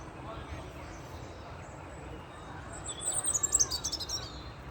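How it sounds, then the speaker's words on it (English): A robin chirps in a quick burst of high, bright notes that rise over steady outdoor background noise after a few seconds. "Can't resist when you see a bird, this is a robin, right in front of you."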